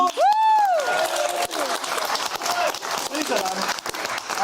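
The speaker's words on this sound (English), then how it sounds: "Big round of applause." A studio audience applauds on a televised talk show, a dense wash of clapping that swells after a brief word from the host and carries on steadily to the end.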